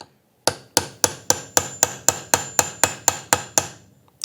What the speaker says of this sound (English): We'll take a punch, and we're just going to flatten out this little spot here.